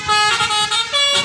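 Telolet horn on a Palala bus pulling out of Bareh Solok bus terminal in Solok, sounding a loud, close melodic chain of bright tones that shift pitch in short phrases over about a second.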